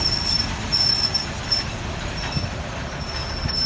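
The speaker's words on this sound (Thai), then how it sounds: "เข้าจอดที่สถานีรถไฟ" An ordinary passenger train from Hua Hin to Bangkok, arriving at Nakhon Chum station, rumbles steadily with deep low-frequency roar and a thin high metallic squeal from the wheels, a continuous close rolling sound with no talk.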